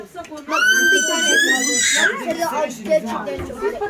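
A child lets out a loud, high-pitched shout that rises and wavers for a couple of seconds at an outdoor family breakfast on Nebiyan mountain, with other voices and clatter around it.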